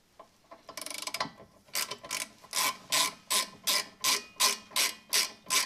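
A hand ratchet tightens brake caliper bracket bolts during a front brake pad and rotor job. A quick buzzing run of clicks gives way to evenly spaced, loud ratcheting strokes close by.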